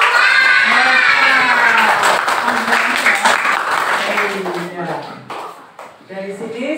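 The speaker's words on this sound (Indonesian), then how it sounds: "Tepuk tangan untuk Mas" Applause from a class or group of students for a classmate after he introduces himself, dense clapping filling most of the stretch and thinning toward the end, with voices audible through it.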